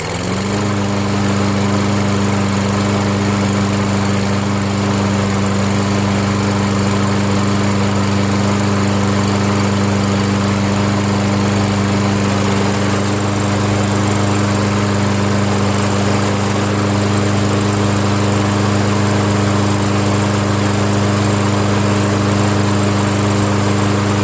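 A Toro Recycler lawn mower with a Kohler engine runs loud and close at a steady, even drone for the whole stretch, with no voices over it.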